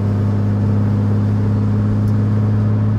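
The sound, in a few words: RB20 engine in Nissan 240SX cranking and firing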